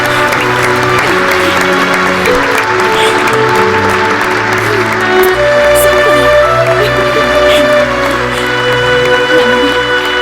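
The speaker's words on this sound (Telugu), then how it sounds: "With you all, let me also applause for her." Steady, sustained applause from a crowd in a film scene, loud and continuous throughout, layered with a musical score underneath.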